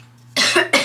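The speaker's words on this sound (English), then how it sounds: "If I'm coughing on camera, I apologize" A person recovering from an illness coughs twice in quick succession, close and loud, after a brief quiet moment.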